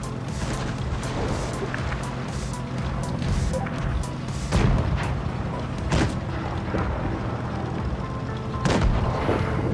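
Cannon fire in a T-34-85 tank battle video game, several heavy booming shots with sharp impact cracks, spaced irregularly over a constant rumbling engine drone, loud and close.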